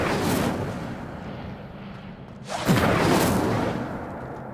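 An Incendio fire spell cast in Hogwarts Legacy, a loud roaring fiery whoosh that swells into a sharp burst midway and keeps blazing afterward, heard alone without talk.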